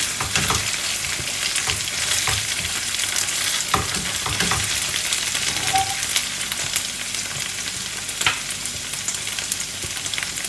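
Peppercorns frying in hot oil for an Anglo-Indian fish mollie, a dense, close, continuous sizzle with scattered crackles and occasional stirring scrapes, steady throughout with no talk.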